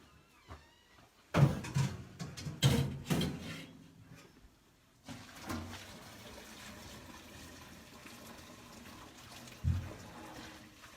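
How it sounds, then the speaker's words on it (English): Cooked spaghetti being drained, bursts of water gushing and splashing into a sink with clatter of a pot, then a softer steady flow trailing off, fairly quiet and close. "Just going to drain my pasta."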